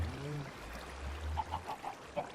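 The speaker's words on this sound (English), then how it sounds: "I hear chickens." Minecraft chickens clucking in short, evenly spaced bursts at a moderate distance, over a low steady background hum, with faint honk-like calls early on.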